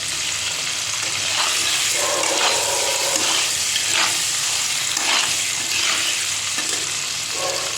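Paneer pieces frying in oil seasoned with salt and turmeric crackle in a steady, fairly loud sizzle, punctuated by periodic stirring scrapes and no voices.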